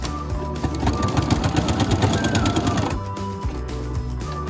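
A sewing machine runs fast and steady while stitching a fabric face mask for kids, a close, even mechanical chatter that slows and stops near the end.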